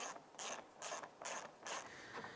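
Ratchet snugging down bolts on a 2011-2017 Honda Odyssey grille during a condenser replacement, four or five evenly spaced bursts of clicking, close but quiet, with no voices.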